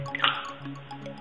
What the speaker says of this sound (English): take your accelerator and just squirt one sprot on there